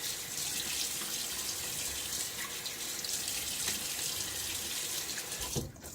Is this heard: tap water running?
yes